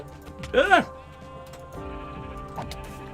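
A sheep bleating in a modded Minecraft-style game called Simple Life 2, one loud wavering bleat close by, followed by a fainter second bleat over steady background game noise.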